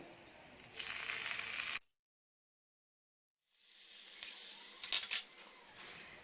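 Sizzling of hot tempering oil poured onto moong dal khichdi, a broad hiss that cuts off into silence, then returns with a few sharp crackles and pops.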